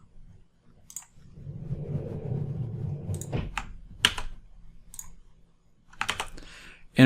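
Computer keyboard keys tapped while entering a phone number into a business listing form, with sparse clicks early, a busier run of typing in the middle, and louder keystroke bursts near the end.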